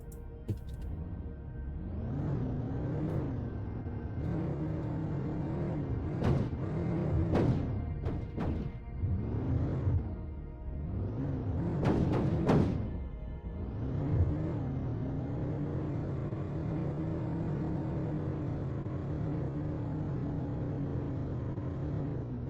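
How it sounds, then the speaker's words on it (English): A truck in the video game Planet Crafter drives with a steady engine hum and rumble, with several sharp revving bursts and clunks in the middle before it settles back to a constant drone. "And we might as well take the truck."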